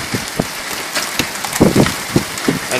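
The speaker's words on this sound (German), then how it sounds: "Es hagelt." Hail pelts down in a thunderstorm in Leipzig, a steady dense patter of hard impacts with scattered louder strikes close by, no talking.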